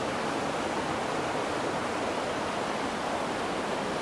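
Rough creek water at the Catwalk Recreation Area in New Mexico rushes in a steady, dense broadband wash, loud and continuous with no voices over it.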